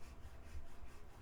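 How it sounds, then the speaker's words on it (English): Hard maple on the neck of a 98-year-old Nahat oud is sanded by hand with a sanding stick, producing a soft, steady rasping rub in short repeated strokes close by. "it's mostly maple that I'm sanding"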